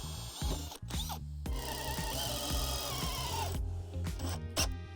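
A power drill bores a 5.5mm pilot hole into a composite deck board, its motor whining in bursts that rise and stop, with a longer steady run in the middle.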